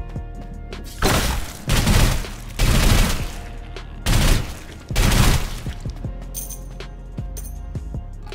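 Assault rifle bursts from the shooter game Sulfur, five loud separated volleys of sustained fire followed by quieter clicks and clatter.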